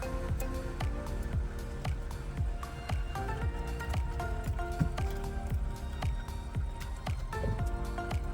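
Water drips from a leak at the bottom of a van door, collecting above the outside weather stripping and spilling inside, heard as a steady run of close, distinct drips and small splashes with no talking.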